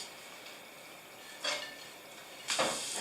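Onions drop into melted ghee in a pan for daal curry, giving two brief sizzling, scraping bursts over a steady low frying hiss, faint and close with no talking.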